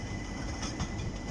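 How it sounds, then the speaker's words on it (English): A Southeastern train passing through Greenwich station, a steady close rumble of wheels and rail noise running through the whole short stretch with no talk. "The southeastern trains coming."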